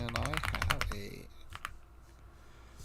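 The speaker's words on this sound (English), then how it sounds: "What was I typing?" Quick, close clacking of computer keyboard keys in a burst of rapid typing, then a few scattered taps fading into quiet room noise.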